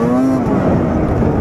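A snowmobile engine runs loud and close, a dense continuous roar with a slightly shifting tone and no talk.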